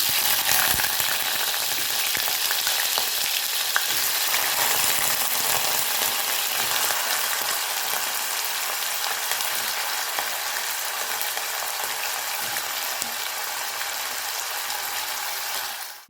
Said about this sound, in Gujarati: રાઈ આપણી તતડી ગઈ છે તો એની અંદર આપણે આ સમારેલા બટાકા એડ કરી દઈશું